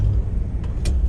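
A numbers-matching 1965 Corvette Stingray with a 327 V8 rumbling low and steady while cruising, heard from inside the car as a continuous droning engine note with road noise and a couple of faint clicks.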